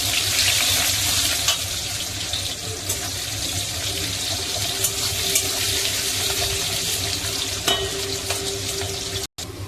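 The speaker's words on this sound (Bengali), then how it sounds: "পেঁয়াজটা একটু ভাজা ভাজা হয়ে গেছে" Sliced onions fry in oil with dried red chillies, whole garam masala and bay leaves, giving a steady, moderately quiet sizzle with occasional light stirring clicks throughout.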